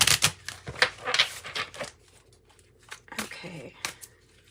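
Several quick bursts of tarot cards riffling and slapping together, close by, with brief pauses between, and a soft voice murmuring near the end.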